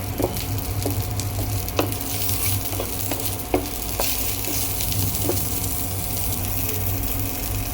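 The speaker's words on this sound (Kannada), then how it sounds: "ಈಗ ಇದು ಬ್ರೊಕೋಲಿ ಚೆನ್ನಾಗಿ ಫ್ರೈ ಆಗಿದೆ" Broccoli and garlic fry steadily in oil in a pan, a continuous close sizzle with intermittent scraping stirs and light clinks, no voices.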